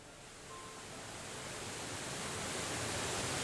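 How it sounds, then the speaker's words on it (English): Roar of rushing water behind a sealed watertight hatch in the game Ever17: a steady, broad hissing surge that swells gradually louder and stays continuous, with no talking over it. "I heard the terrible roar of water from the passageway on the other side of the wall"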